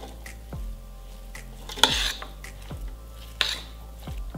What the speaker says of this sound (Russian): Берем ложку и перемешиваем.